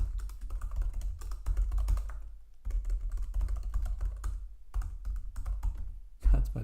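Password being typed on a computer keyboard: a steady close patter of key clicks in several runs broken by brief pauses, ending with a heavier keystroke, over a low background hum.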